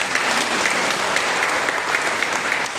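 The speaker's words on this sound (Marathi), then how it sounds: "जोरदार टाळ्या एकदा." An audience bursts into loud, sustained applause at a church talk, many hands clapping in a dense, even roar for a few seconds with no voices over it.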